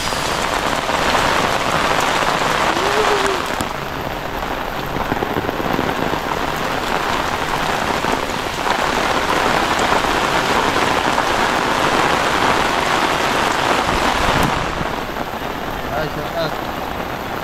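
Heavy rain pours during a typhoon, a dense, continuous hiss of water drumming on surfaces that swells and eases slightly over time, loud and close, with faint voices talking beneath it.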